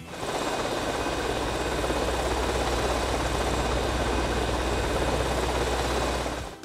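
A helicopter in a video game mission, with workers and guards trying to knock it down, drones as a steady loud rotor and engine roar with a deep low throb, unbroken for several seconds.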